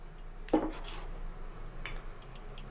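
A metal spoon clinks against a bowl while dipping boiled potato balls into gram flour batter for vada pav, with one clear knock followed by soft, faint scrapes and taps, no voices.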